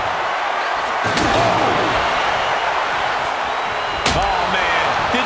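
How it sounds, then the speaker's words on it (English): Sharp crack of a kendo stick striking in WWE 2K25 wrestling gameplay, one loud slam near the start and another near four seconds, over steady crowd noise from the arena. "Did you hear the snap of the kendo stick?"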